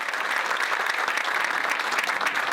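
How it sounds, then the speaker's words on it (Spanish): Dense, steady applause from a seated audience at a book launch event fills the space evenly from start to finish, loud and continuous with no voices over it. "Un aplauso."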